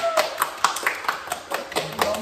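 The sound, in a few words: applause for the guest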